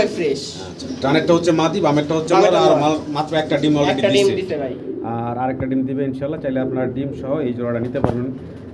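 Caged pigeons coo at a pigeon farm with repeated low, throaty calls that run steadily in the foreground, mixed with chirps and other birds while someone talks over them in Bengali.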